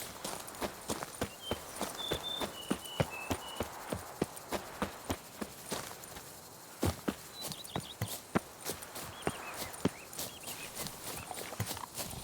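Roach, a horse in The Witcher 3, galloping with a steady run of clip-clop hoofbeats close by, the rhythmic thuds continuing alone through most of the stretch with a brief pause midway.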